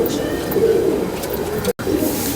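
Soft, low pigeon coos repeat over a steady murmur of background noise, with a brief cut partway through.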